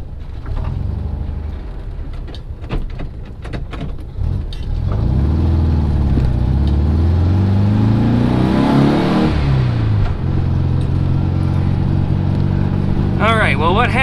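A VW car on a test ride after a shifter repair and a fixed transmission nose cone mount, its engine droning loud and close, rising in a steady rev before settling into a sustained cruising hum.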